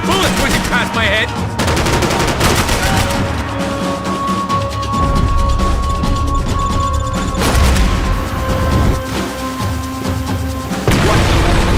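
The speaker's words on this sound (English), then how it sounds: "I can't concentrate with bullets whizzing past my head." Gunfire in Max Payne 3 rattles loud and close with rapid shots, crashes and whizzing rounds that go almost without pause, under tense music.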